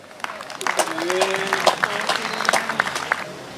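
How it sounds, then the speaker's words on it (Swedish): Audience at a folk fiddlers' gathering in Ekbacken, Torsås, applauding two musicians, Ulrik and Kalle. Warm, swelling clapping of a modest crowd runs throughout, with voices and a few tonal sounds mixed in above the hands. "En varm applåd till Ulrik och Kalle"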